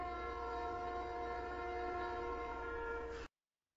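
A Minecraft train sounds a steady, sustained horn chord for about three seconds over a low rumble, then cuts off abruptly into silence.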